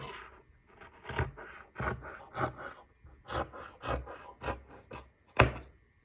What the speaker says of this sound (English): So I'm just going to go ahead and cut.